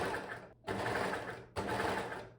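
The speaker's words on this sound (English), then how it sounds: "you can then overlock around the armholes" An overlocker stitching around the armholes of a stretch mesh dress, running in three bursts of rapid mechanical whirring separated by two brief pauses, close and fairly quiet.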